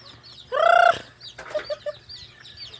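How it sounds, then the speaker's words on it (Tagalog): Chickens at a provincial rest house: one loud, close cackle followed by several short clucks, with softer clucking from other birds in the background. "Ang daming manok."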